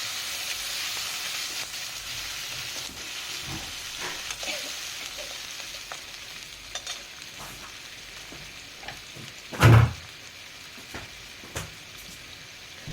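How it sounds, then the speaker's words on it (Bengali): Hot water added to fried potatoes in a pan sets off a steady, moderate frying sizzle with faint stirring and one brief clunk partway through, and no voices. "গরম জলটা অ্যাড করে দিলাম।"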